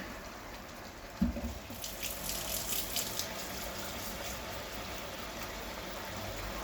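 Water poured into a pot for a beef roast, a steady splashing gush that starts abruptly and then settles into a continuous pour, moderately quiet and without talk.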